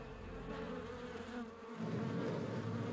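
A steady, dense buzzing of many bees, a continuous drone that swells slightly louder toward the end.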